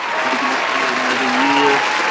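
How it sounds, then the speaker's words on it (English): Applause fills the room, steady and loud for a couple of seconds, with voices talking and calling out underneath it. "Round of applause for us."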